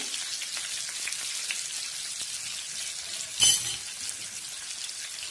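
Curry leaves sizzle and crackle in hot oil in a pan, a steady bright frying hiss throughout with one louder pop-and-spatter burst near the middle, no voices, while sardines are being prepared for pan-frying Kerala style.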